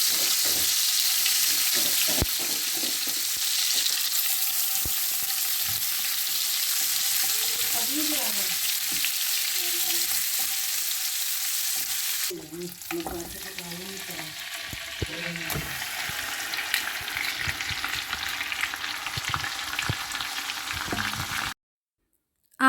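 Saag tempering with a tadka in a home kitchen pan, loud continuous sizzling and frying with scraping stir strokes throughout, a few faint voice-like traces underneath, then an abrupt stop near the end.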